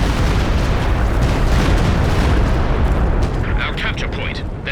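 A Walking Stuka rocket barrage pounds the battlefield in Company of Heroes 2, a heavy continuous roar of explosions with sharper bursts near the end.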